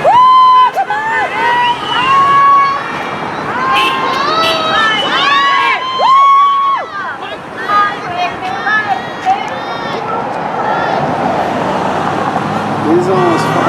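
A crowd of loved ones at a hunger strike demonstration outside a Monterey County jail cheers, whoops and shouts loudly and continuously, with high sustained yells rising above a dense wash of voices.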